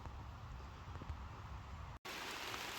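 Steady rain patters on leaves beneath trees in a small wood, a dense continuous hiss with scattered drop hits, with a brief dropout near the end before the downpour resumes slightly brighter.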